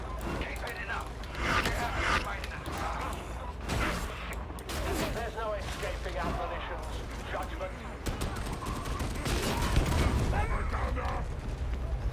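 Gunfire crackles in a chaotic Darktide game fight, with rapid bursts and scattered shots mixed under overlapping voices talking throughout.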